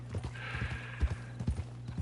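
Horse hooves in the video game Red Dead Redemption 2 clip-clop in a steady walking rhythm, close and fairly quiet, with a low hum in the background.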